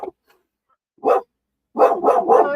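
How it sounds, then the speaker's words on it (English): A dog indoors barks at someone outside: one short bark, then a quick run of three barks close by, with no talk over them. "she's barking because somebody's outside"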